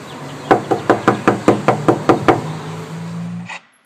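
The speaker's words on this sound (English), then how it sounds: "We're gonna knock on the door." Nine quick, firm knocks land on a house door in an even rhythm, close and clear over a low background hum that fades out after them.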